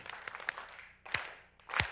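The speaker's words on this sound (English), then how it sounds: "I want you to clap the rhythm of this one." An audience at a live concert hall claps a rhythm in several short bursts of sharp hand claps, irregularly spaced and loosely together, moderately loud with gaps between groups.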